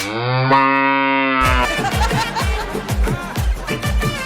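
A buffalo gives a long, loud, close moo that holds steady before breaking into a string of short rhythmic bursts, used as a comedy skit sound effect.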